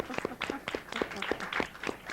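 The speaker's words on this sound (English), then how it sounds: "So let's give it a round of applause to Elliot." A small audience applauds someone who is helping organize a Gay and Lesbian Pride event. The clapping is fairly faint and quick, with a rhythmic string of about nine distinct claps in a couple of seconds.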